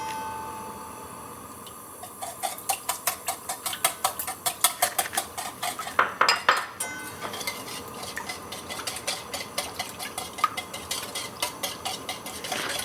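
Rapid, steady clinking of a whisk against a bowl as egg yolks and a whole egg are beaten into a lemon and sugar mixture for lemon curd, starting after a quiet moment and continuing close and crisp with no talk.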